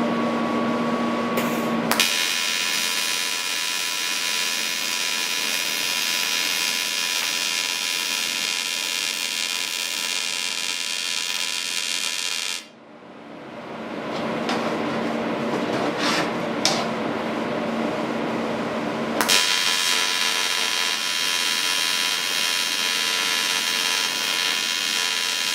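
A Lincoln TIG 200 welder running at 90 amps on 115 volts gives a steady, loud electrical hum and buzz with high tonal whine, cutting out briefly midway before resuming, no talking.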